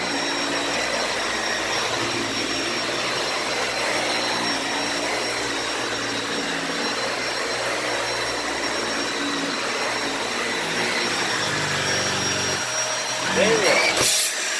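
A Dyson Ball Animal 2 vacuum cleaner runs over super fluffy carpet, a loud, steady close whine holding throughout, with a voice speaking over it and a brief rise in pitch near the end.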